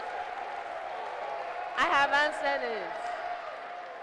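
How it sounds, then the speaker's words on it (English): Audience clapping at a Ghanaian school science quiz contest, the NSMQ 2023 Greater Accra regional championship, makes a steady wash of applause with someone speaking briefly over it. "Clap for me."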